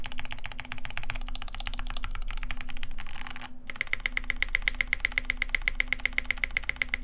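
Rapid, steady clicks of a mechanical keyboard's enter key, pressed again and again in a quick even rhythm, close up with a low hum underneath.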